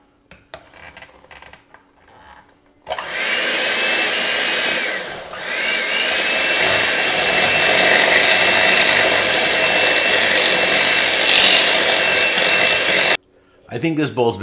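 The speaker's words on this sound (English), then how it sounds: "they're going to have us blend this wet mixture till smooth" A blender roars steadily for about ten seconds, close and loud, mixing a wet pumpkin cream cheese mixture for keto squares, with a brief dip midway and quieter kitchen handling before and after.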